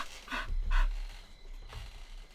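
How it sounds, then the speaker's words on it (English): A dog in the medieval video game Pentiment pants softly at close range, with several quick breathy huffs and then a pause followed by one more short pant. "Can I pet that dog?"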